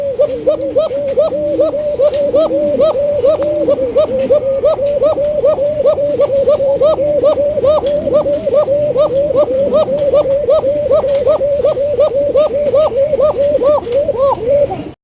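A red king pigeon coos in a fast, regular series of repeated calls, loud and near, with softer lower coos from other birds underneath.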